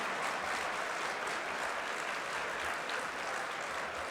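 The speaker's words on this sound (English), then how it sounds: "let's give them another round of applause" An audience at a youth ministry program event claps for performers, a dense, steady round of applause that holds evenly for the whole few seconds, fairly distant and moderately quiet.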